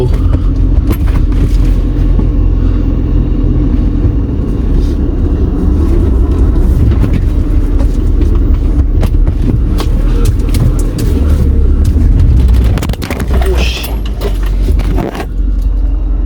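A car runs close by with a loud, steady engine rumble that holds for most of the stretch, then dips briefly near the end.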